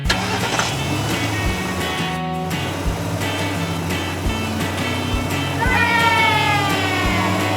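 A cartoon family car sets off, its engine starting and then running steadily as a mid-pitched hum for several seconds under light background music.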